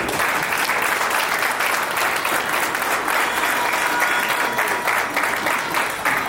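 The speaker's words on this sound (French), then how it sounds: "M. Jean-Marie Kiwele, sous vos applaudissements, s'il vous plaît." A crowd at a company's twentieth-anniversary celebration claps in sustained, loud applause, an even roar of many hands that continues without letup throughout.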